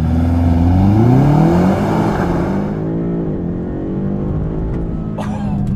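A BMW M5 CS roars hard as it launches with launch control, its pitch climbing fast over a couple of seconds, then settling into a steady high drone as it speeds away.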